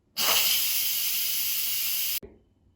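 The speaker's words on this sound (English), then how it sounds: "let's quick release the remaining steam" An Instant Pot quick-releases steam in a loud, steady hiss that starts abruptly, holds for about two seconds and cuts off sharply, followed by a faint clunk and a quiet trailing hiss.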